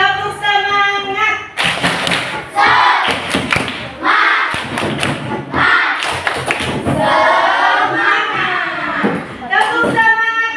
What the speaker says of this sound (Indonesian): Ayo kita tepuk semangat dulu supaya makin semangat